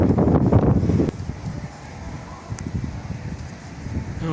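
Wind picking up outdoors before a thunderstorm in Chernivtsi, a loud gust buffeting the microphone at first, then easing to a softer, steady rush.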